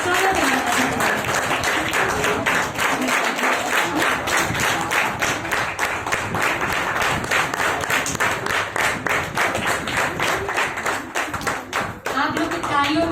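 A crowd at a Gandhi Jayanti cultural event applauds, rapid dense hand claps continuing steadily for many seconds, loud and close, thinning out near the end as a voice begins.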